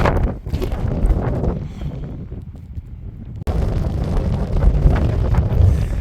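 Strong wind batters a microphone at a mountain wild campsite in Carneddau, a loud continuous roaring rush that dips briefly, then surges back and stays heavy.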